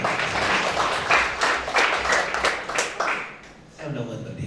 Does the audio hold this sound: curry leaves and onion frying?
no